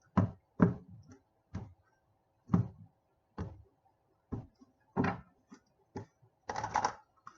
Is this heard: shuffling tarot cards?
yes